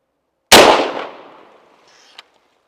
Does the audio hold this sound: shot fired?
yes